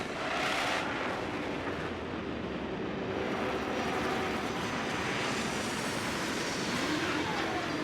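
A spaceship's retro thrusters firing during a landing in the Starfield video game, a loud, steady roaring rumble that holds constant throughout.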